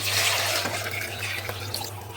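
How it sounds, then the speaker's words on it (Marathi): Water is poured into a pot of sautéed dal khichdi, giving a soft, close splashing and trickling over a steady low hum, with no voices. "आता मी पाणी ॲड करते ह्याच्यामध्ये"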